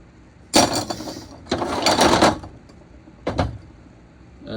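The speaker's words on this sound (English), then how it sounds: "A strap wrench." A strap wrench being handled in a toolbox: a few close, loud bursts of rattling, scraping mechanical noise with quiet gaps between them.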